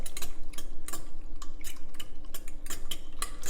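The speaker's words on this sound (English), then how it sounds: "so whisking that up until it's nice and yellowish orange" Eggs and egg whites whisked in a bowl, a quick steady run of light clinks and taps from the whisk against the bowl, close and fairly loud with no talk.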